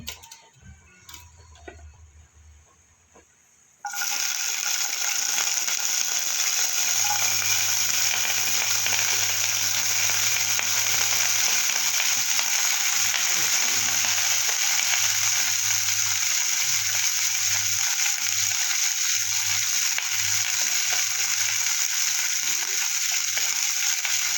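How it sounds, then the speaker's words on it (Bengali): Broccoli dropped into hot oil sets off a loud, steady, close sizzle after a few quiet seconds of faint kitchen clatter, the frying holding evenly to the end without any talking. "এদিকে আমি ব্রোকলিটা ভেজে নেব। তেলটা গরম করতে বসিয়ে দিয়েছি।"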